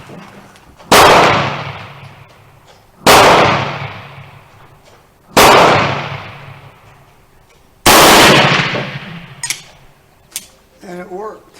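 A Remington rolling block carbine in 7x57 Uruguayan fires four loud, sharp shots a couple of seconds apart, each with a ringing decay, followed by faint clatter.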